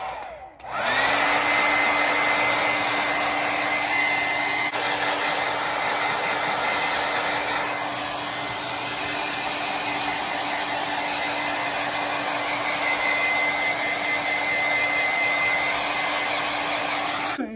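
A hair dryer blows steadily at close range, drying a thrifted candlestick during a makeover. It gives a continuous whirring hum for around seventeen seconds with no talking.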